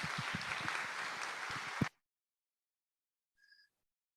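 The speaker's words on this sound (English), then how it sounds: "please join me in a round of applause for Emmanuel" Audience applause follows a pitch at a summer startup pitch competition, a dense burst of clapping that cuts off abruptly into silence, followed later by a faint, brief tone.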